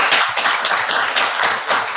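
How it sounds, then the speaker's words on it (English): A round of applause from an audience at an online agile coaching talk, steady close clapping throughout with no speech. "So let's give a round of applause to Björn."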